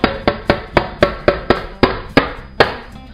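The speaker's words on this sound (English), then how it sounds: "With your cake out the oven, time to tap the bottom." Sharp taps on the bottom of a metal cake tin holding a freshly baked strawberry jelly fresh cream cake, nine distinct knocks in a steady, close rhythm with no voices.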